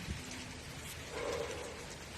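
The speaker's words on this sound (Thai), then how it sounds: "ตอนนี้ก็ฝนตกด้วยค่ะพี่น้องค่ะฝนตกค่ะ" Rain falls outdoors in a short stretch, a faint, even patter and hiss with a slightly louder swell partway through and no talk over it.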